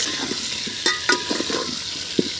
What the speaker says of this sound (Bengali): এই রকম আলুগুলো একটু ভেজে নেব লাল লাল করে।